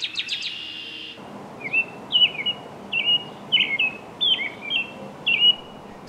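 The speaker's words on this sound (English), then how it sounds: "frequently robins sing." An American robin sings a series of short, warbling phrases separated by brief pauses, clear and fairly close over a quiet background.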